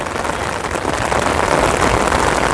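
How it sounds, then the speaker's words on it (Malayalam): Strong rain beats down near a new toll plaza on a national highway, a dense, constant hiss that holds at an even loudness throughout, with no talking. "മഴയൊക്കെ സ്ട്രോങ് ആയിട്ടുണ്ട്. മഴയാണ്."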